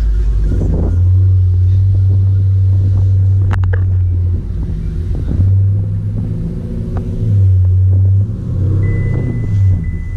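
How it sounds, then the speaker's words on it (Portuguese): A Chevrolet Camaro's engine rumbles deeply while driving slowly, steady low droning pulses rising and falling with light throttle, close and loud with a short voice in the background. "Se você andar com ele devagar, igual eu tô andando, você já sente que o motor é forte"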